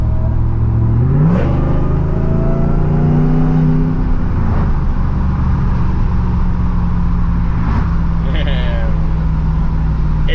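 A Hellcat-engine-swapped Dodge RAM 1500 pickup drives along, its engine rising through a few loud revving pulls with gear changes between, heard close from the cabin.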